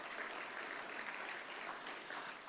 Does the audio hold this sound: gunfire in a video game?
no